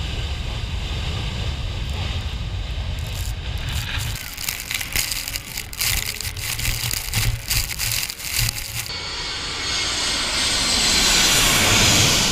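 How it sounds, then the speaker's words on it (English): A low-flying airplane roars over a beachside runway and spectators, its engine noise loud and sustained, swelling and churning as it passes close, with wind and surf-like rush beneath and a brighter hiss building toward the end. "The plane flew so low it nearly brushed the spectators' heads before landing perfectly on the beachside runway."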